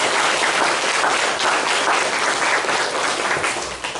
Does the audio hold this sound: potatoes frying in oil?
no